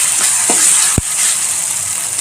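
Ginger-garlic paste sizzles steadily in hot oil while cooking chana usal, a constant close frying hiss broken by one dull thump near the middle.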